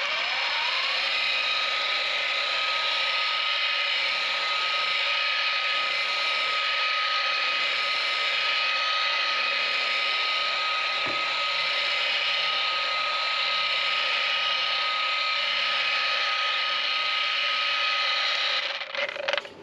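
Rotary polisher running at low speed on a fiberglass Oliver Legacy Elite 2 travel trailer, a steady loud whir with a constant tone held for nearly twenty seconds before winding down at the end.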